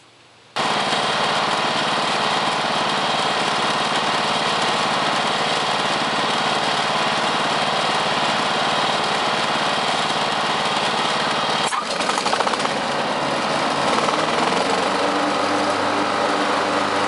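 Lawn tractor engine running steadily at full throttle, a loud continuous drone that briefly dips and shifts pitch near the end as the load changes, with no talking.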